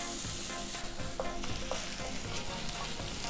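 Tomato frying and being stirred in a pan for a hen noodle dish, a steady close sizzle with scraping stir sounds throughout.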